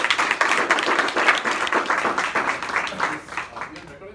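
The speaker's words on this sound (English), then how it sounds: "let's give Samuel a huge round of applause" An audience at a lead generation coaching session claps for several seconds, a steady wash of hands that thins out toward the end, with talk mixed in underneath.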